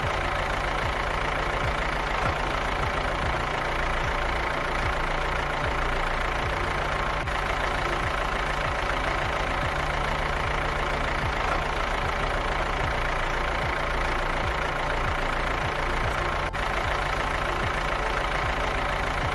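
A tractor engine idles steadily, a constant low, throbbing rumble that holds evenly throughout without revving or talk.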